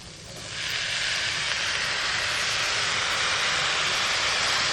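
Washed broken wheat (dalia) tipped into a hot pan sets off a loud, steady sizzle that swells within the first half second and then holds as a continuous bright hiss.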